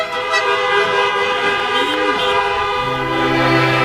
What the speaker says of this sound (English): let's have a few honks for your class of 2020 valedictorian, Allie Starner.